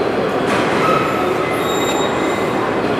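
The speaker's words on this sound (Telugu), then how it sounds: "మేము ఇప్పుడు ఎక్కింది న్యూ లేటెస్ట్ బుల్లెట్ ట్రైన్." Inside the new Kamome bullet train in Japan near Nagasaki, the cabin fills with a loud steady rolling rumble of wheels on rail, with a faint high squeal drifting through and no voices.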